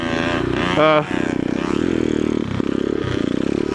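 A Yamaha YZ80 pit bike revs hard during a wheelie, its two-stroke engine rising to a high whine and then dropping into a choppy, buzzing rattle, loud and close throughout.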